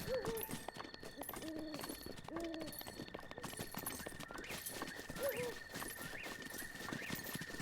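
Horse hooves clip-clopping across rough mountain terrain in Zelda: Breath of the Wild, faint rhythmic steps mixed with occasional whinnies and soft game music.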